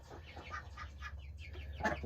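Chickens clucking at a homestead coop in the morning, several soft, close clucks and short calls over a low background hum, with one louder squawk near the end.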